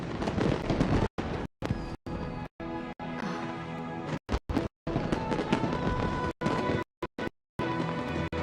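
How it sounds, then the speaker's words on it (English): Fireworks burst during the Lantern Rite festival in a video game, dense loud crackling and booming explosions in rapid overlapping bursts, broken by several brief abrupt silences. "Way over there, a firework that looks just like a pig!"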